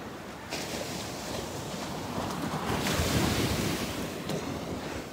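Sea waves wash onto the shore at Bucana, a continuous roar of surf that swells midway, with wind buffeting the microphone and no talk.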